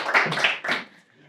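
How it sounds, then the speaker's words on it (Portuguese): A short burst of audience applause at a banking AI panel talk, a few loud claps in quick succession that fade after about a second. "Um aplauso para esta introdução da Daniela."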